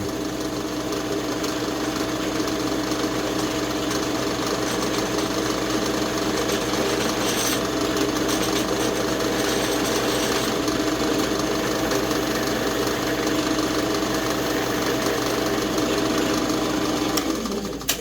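Steady motor whine of a drill boring into metal with a cobalt bit and cutting paste, running continuously and fairly loud with no talking, tapering off at the very end.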